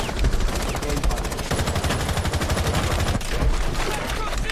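Rapid gunfire in Rainbow Six Siege, dense bursts of automatic shots crackling loudly and continuously with brief gaps, close and sharp throughout.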